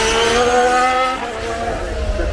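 A Formula One ground-effect race car roars past, its loud high-revving engine note sweeping downward as it passes close by.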